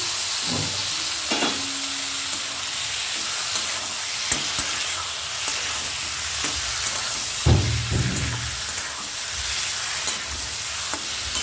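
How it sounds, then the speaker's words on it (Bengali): Fried eggplant tipped into a pan of cooked tomato, onion and chili for a Bengali bharta, with steady sizzling and frying broken by a few sharp clatters of stirring and utensil knocks, no voices. "তো আমার টমেটোটা, পেঁয়াজ, লঙ্কাটা হয়ে গেল। তো বেগুন ভাজাটা আমি ঢেলে দিলাম"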